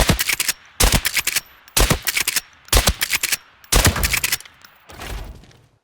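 Gunfire in the shooter game Arena Breakout Infinite comes in four tight rapid bursts, loud and close with sharp cracks, followed by a duller fifth burst near the end.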